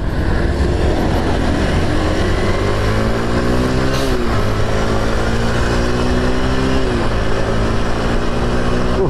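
A 2023 Kawasaki KLX 230 SM SE single-cylinder supermoto motorcycle accelerating through the gears, loud close engine drone rising in pitch, dropping at shifts and climbing again, under heavy wind rush.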